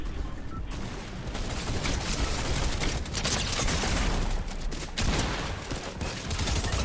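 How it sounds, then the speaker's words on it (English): Loud, continuous Fortnite battle gunfire, with shotgun blasts in a dense, chaotic stream of shots and impacts under constant game noise. "Oh my god, the shotgun wasn't enough."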